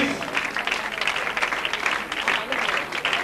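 Audience at a painting presentation ceremony claps in a dense, steady burst of applause, loud and continuous throughout, with voices mixed in.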